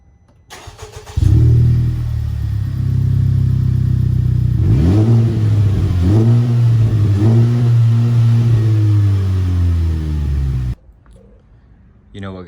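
A Honda Civic Type R FK8 fitted with an Invidia Gemini exhaust fires up and settles into a loud, steady idle, then gives a run of sharp throttle blips before the engine cuts off abruptly near the end.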